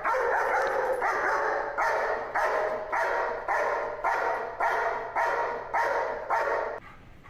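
A dog barks repeatedly in a steady rhythm, about ten loud, close barks evenly spaced with short pauses between them.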